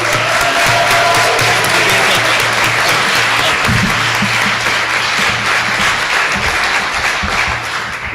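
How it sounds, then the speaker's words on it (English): An audience at a NeurodiverseNW 2022 event cheers and applauds in a dense, sustained wave of clapping that fills the room throughout. "Let's go ahead and cheer and let them know that we're psyched to be here"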